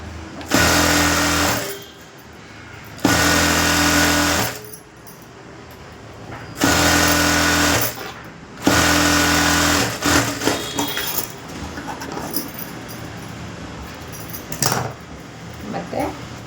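Electric sewing machine stitching a strip piece onto a princess-cut blouse for hemming, four loud humming bursts of about a second and a half each with pauses between, followed by quieter handling noise.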